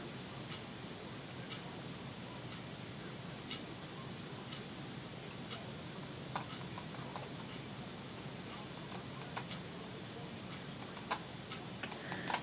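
Scissors cut paper for a winter cottage lapbook, giving faint, scattered snips and ticks over a quiet room background with no talk.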